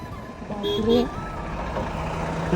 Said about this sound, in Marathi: आता ती ट्रक येते ती ट्रक कशी निघेल काय माहिती बाबा